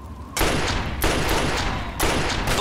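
Gunfire from the video game Fallout 3: dense, loud bursts of rapid shots in three clustered volleys separated by brief lulls, with no talking over it.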